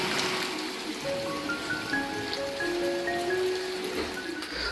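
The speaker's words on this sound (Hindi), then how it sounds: "सुबह से तीसरी बार ये बारिश हो रही है" Steady heavy rain pours down outside a home, a continuous dense wash of falling water with a few faint tonal sounds running through it and no voices.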